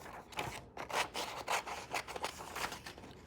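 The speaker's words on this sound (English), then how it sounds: "So you just need to go ahead and cut it out." Scissors cut out a paper face mask pattern: quiet, close rhythmic snipping and rustling strokes, about six or seven in a row, with no talk.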